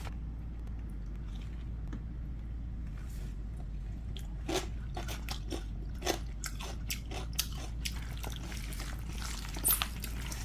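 Someone bites into crunchy watermelon rind kimchi made with onion, giving a series of close, sharp crunches and wet chewing snaps that come irregularly over a low steady hum.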